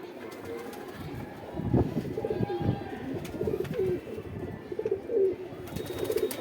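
A flock of high-flying pigeons kept by a Saharanpur fancier coos close by in soft, rolling, overlapping calls, with a few faint voices and light knocks mixed in.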